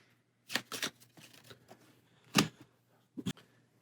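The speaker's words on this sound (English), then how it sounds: "And shuffle turn order for the next round." Turn order cards for the board game Aeon's End Legacy are shuffled close by, with several quick riffling bursts separated by short pauses and light handling noise.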